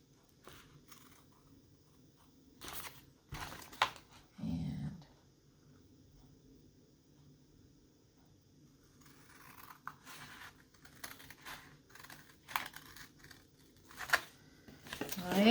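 Faint snips and scratchy rasps of cutting flexible masterboard for a Tim Holtz style envelope, close and quiet, coming in scattered short bursts with pauses between.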